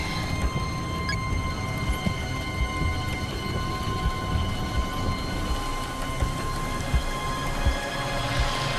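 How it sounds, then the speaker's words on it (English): Rain falls steadily, a dense continuous hiss with scattered drops and a faint low rumble beneath, fairly loud with no one talking. "It's really starting to rain."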